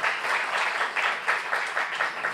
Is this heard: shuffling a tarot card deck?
no